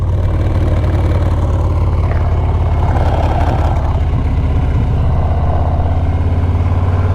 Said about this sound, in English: It's my favorite sound too when you roll off the throttle.